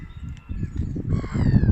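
Harsh, squawking gull calls ring out a few times, fairly close, over a steady rumble of outdoor background noise, near ducks, a swan and pigeons.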